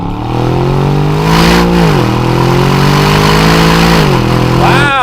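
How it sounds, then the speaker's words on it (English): A performance SUV's engine revs loudly and close up, climbing in pitch, then dropping sharply on each of two downshifts before building again as it pulls around a corner, with no talk over it. "let's toss this into a few downshifts here and see what we can do around this corner"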